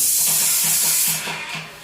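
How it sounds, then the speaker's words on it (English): Loud, continuous hiss of a Graco airless paint sprayer with a jet roller, a rhythmic low pump pulse under it, dropping a little toward the end as the spray stops. "Can you hear that spray stop?"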